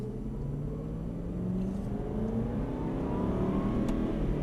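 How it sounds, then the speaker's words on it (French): Aston Martin Vantage accelerating on the Dreux race circuit, heard from inside as a loud, steady engine drone that climbs in pitch and then drops back after a gear change before rising again, with no talking. "Donc tu peux être en phase d'accélération et passer des vitesses à la volée."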